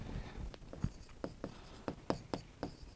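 A pen writes a maths solution by hand on paper with a series of quick, close scratchy strokes in an uneven rhythm, without speech.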